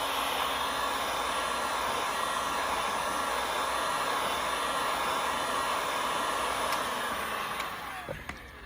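A handheld heat gun blows a steady, loud broadband hiss of hot air onto the sealed box of a new iPhone 13 Pro, continuous for several seconds and tapering slightly at the end.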